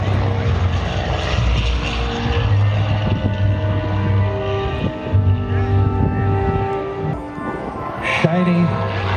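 A P-51 Mustang propeller fighter flies at an air show, its piston engine giving a loud, steady droning roar with strong low harmonics that holds throughout, swelling slightly at moments.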